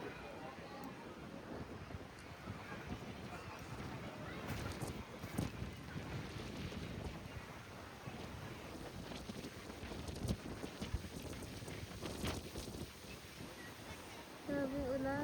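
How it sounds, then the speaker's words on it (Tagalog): Strong wind and heavy rain on a treetop walkway in County Wicklow, Ireland, with broadband gusty roar and buffeting across the whole stretch, plus brief voices near the end. "Grabing ulan. Ang hangin."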